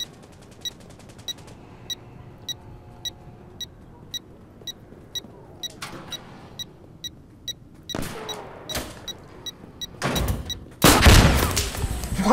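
A grenade launcher round detonating close by in the tactical shooter Insurgency Sandstorm: sharp regular ticks, then several bursts of loud blasts building to a heavy, roaring explosion at the end.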